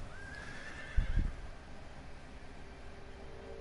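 Wounded horse in the Ghost of Tsushima video game whinnies once with a rising call, along with a short burst of hoof clatter, over a soft, noisy wind-like background.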